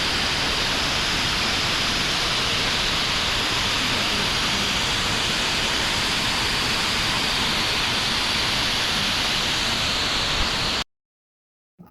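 Airport garden waterfalls give a loud, steady, broadband rush of falling water that continues unbroken for about eleven seconds, then cuts off abruptly.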